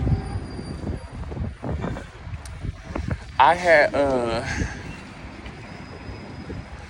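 A train passes close by on nearby tracks, rumbling steadily under ongoing talk, with a brief burst of squealing wheels or a horn-like tonal sweep partway through.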